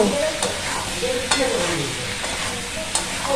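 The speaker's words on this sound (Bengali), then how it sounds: "আর একটু কষাবো।" Young jackfruit stir-fried in a pan for a Bengali meat-style dish, with steady close sizzling and a few sharp scraping strokes of a spatula, no voices.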